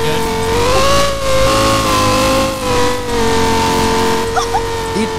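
Diesel train engine in a train-building video game, straining under load with a loud, sustained mid-pitched drone and a steady tonal whine that wavers slightly, with brief faint chirps near the end.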